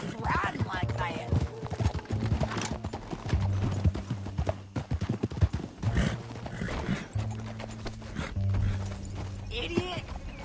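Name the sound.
horses being ridden, hoofbeats, from the video game Red Dead Redemption 2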